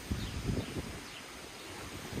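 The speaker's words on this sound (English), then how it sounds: "Dang, it is windy!" Steady wind rushing and buffeting against the microphone on open water, with low rumbling gusts and no voices.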